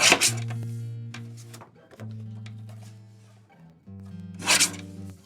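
Scissors or a trimmer cutting a quarter sheet of white cardstock for a layered sunflower card, with crisp rasping cuts at the start and end over a steady low hum, close and fairly loud.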